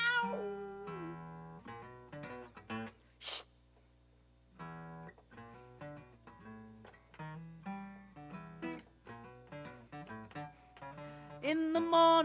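A cat meows repeatedly in drawn-out, tonal cries that rise and fall with short pauses between, fairly close and clear, with one sharp high burst partway through.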